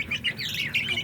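Poultry chicks, hatched from two hens that laid in one shared nest, chirp in a steady run of high, close tweets and peeps that repeat without pause.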